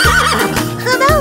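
A horse gives a short, loud, close neigh, a quick quavering whinny lasting about a second.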